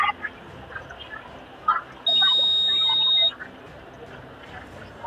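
A class-project alcohol detecting machine's buzzer sounds as a single steady, loud electronic tone lasting about a second, rising above a background of murmured talk and room noise.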